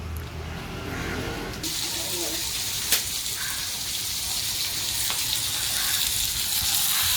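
Pomfret fish fries on a tawa, a continuous hissing sizzle that grows slightly louder over time, with a couple of sharp clicks near the start and middle.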